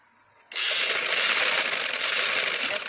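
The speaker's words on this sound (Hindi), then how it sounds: "और इसी तरह दूसरी तरफ से मैं सिलाई लगा रही हूँ ऐसे।" A sewing machine stitches fabric for a girl's fairy frock at home, starting abruptly after a brief quiet moment and then running steadily and closely with a continuous fast whirring drive.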